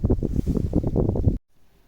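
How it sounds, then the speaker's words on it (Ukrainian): Steady low rumbling wind buffeting the microphone, loud and continuous, then cutting off abruptly to near silence. "а тут вітер. Мабуть, буде погано чутно"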